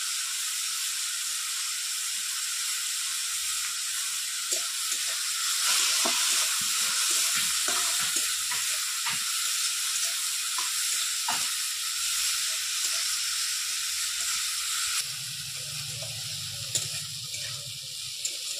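Powdered asafoetida dropped into hot oil in a pan sets off a constant close sizzle with sporadic crackles and pops, then a low rumbling hum joins in near the end.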